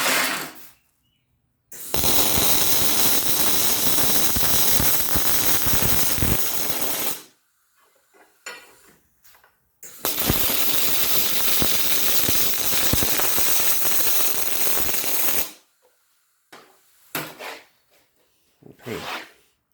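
MIG welding on small steel parts at a plate, with two long bursts of loud, crackling, sizzling arc buzz separated by short pauses and scattered clicks.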